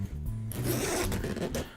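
A half-length zipper on the bottom pouch of an eBags Slim Professional gadget backpack is pulled open in one continuous rasping run, close and fairly loud, with no talking over it.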